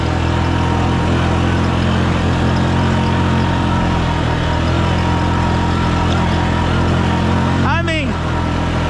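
Can-Am Outlander 400 ATV, a Gen 1 model on worn tires, rumbles steadily over bumpy ground, its engine drone loud and constant with a brief whirring pitch sweep near the end.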